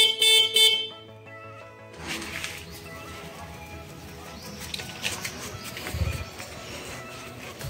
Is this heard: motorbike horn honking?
yes